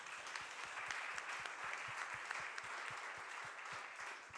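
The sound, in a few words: audience applause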